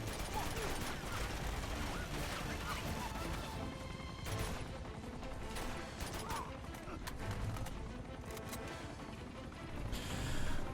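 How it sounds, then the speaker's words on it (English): Gunfire and clattering combat noise in Uncharted 2: Among Thieves, shots and mechanical impacts scattered through a busy game soundtrack, with someone talking over it. "She's shooting right now."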